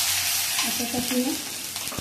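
Ginger-garlic paste hits garlic already frying in a pan for white onion sabzi, setting off a loud, continuous close sizzle with a few clinks and stirring scrapes, and a voice faintly murmurs underneath.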